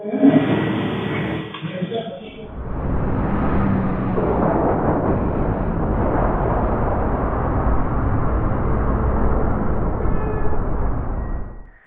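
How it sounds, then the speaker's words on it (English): A sudden loud fuel tank explosion in Turkey cuts in after a short stretch of other sound, followed by a sustained roaring rush that continues for several seconds before stopping abruptly. "a fuel tank explosion in Turkey could have been far worse without it"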